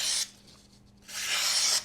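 A Kizer Parakeet knife on its unsharpened factory edge slices through material in two close, dry rasping strokes with a short quiet gap between them.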